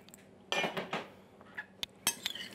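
A spoon stirs a salted tomato and cucumber salad in a bowl, giving a few scattered clinks and scrapes against the dish between quiet pauses, close and fairly soft.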